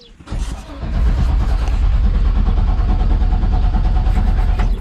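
A car engine is cranked but fails to catch. After a brief rough start, it churns steadily and loudly up close for several seconds without settling into a clean idle.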